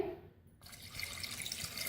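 Water is poured into a cooking pot of mutton, a close, splashing, faucet-like flow that starts abruptly and continues steadily.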